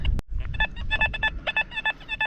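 A metal detector giving a rapid, warbling series of electronic beeps after a sharp click, close and fairly loud, a high signal tone.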